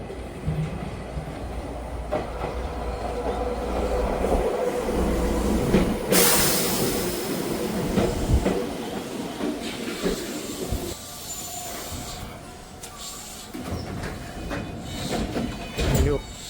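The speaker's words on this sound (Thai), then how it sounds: "รถไฟท้องถิ่น" A local train in Fukushima runs past with a steady rolling rumble and rail clatter, swelling sharply around the middle and staying loud to the end, with faint voices underneath.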